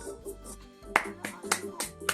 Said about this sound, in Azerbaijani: Alqışlayırıq səni.